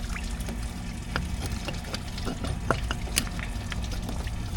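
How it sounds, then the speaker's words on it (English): Coolant splashing and trickling out of a Cadillac SRX 3.6 V6 engine as a part is pried loose, an uneven pouring patter with small drips and clinks, fairly close. "Let's pry on this some and spill all the coolant out."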